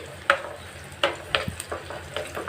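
Frying in a pan with curry leaves added for a fish curry, a moderate sizzle punctuated by several sharp spatula scrapes and taps at irregular intervals.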